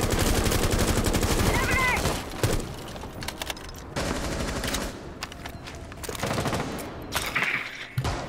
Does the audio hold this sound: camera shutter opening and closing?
no